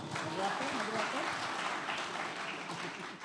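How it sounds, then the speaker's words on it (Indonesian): Seminar audience on a campus applauding, a soft continuous patter of many hands with voices murmuring and speaking underneath throughout. "Tepuk tangan."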